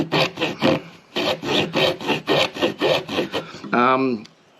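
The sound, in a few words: sawing with a bare hacksaw blade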